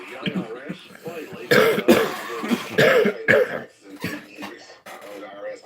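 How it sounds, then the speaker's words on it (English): Several light, short coughs come in a quick irregular series, close by, mixed with throat sounds and breathy bits. "It just wants to do these all light coughs."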